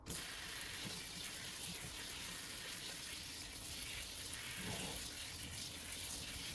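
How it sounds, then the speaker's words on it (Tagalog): Cold tap water runs steadily over orange peel in a sink, a continuous moderate splashing hiss without pause. "Malawan natin siya ng malamig na tubig."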